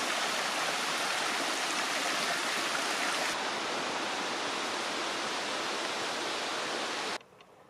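A river flowing beside a hiking trail, a loud, steady rushing of water close by that continues without a break before cutting off abruptly near the end.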